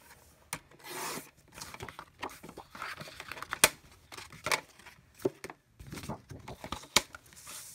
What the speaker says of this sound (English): And now I'll cut them both in half at 5 1/2.